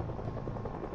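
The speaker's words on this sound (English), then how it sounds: "I don't even think the helicopter's above us." A helicopter drones throughout in the Project Zomboid video game, a continuous rumbling rotor noise that fills the brief moment evenly, fairly loud, with no voices over it.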